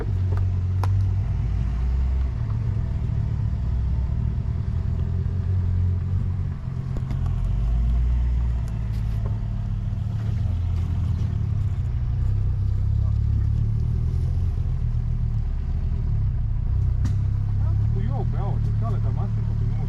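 Volvo C70 car driving along a forest road, a steady low engine drone holding throughout at close range, with people talking over it.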